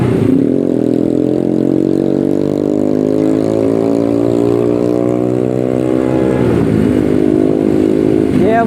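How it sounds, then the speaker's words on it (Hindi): A motorcycle engine revs and drones loudly and close as the bike pulls out on a foggy street in Multan, pitch rising and holding steady before dropping and climbing again near the end. "और सूरज भाई साहब बाइक निकल आ रहे हैं अब।"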